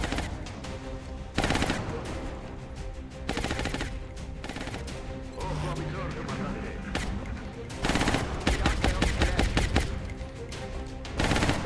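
Suppressing fire in XCOM: Enemy Unknown rattles out as loud bursts of automatic gunfire, several separate volleys with brief pauses, dense and close, with heavier bursts toward the end.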